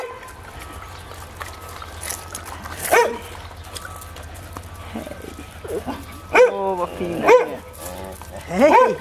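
Podenco ibicenco dogs bark and yelp in bursts on Ibiza, several sharp, tonal howling barks mostly toward the end, close and loud over a low background rumble.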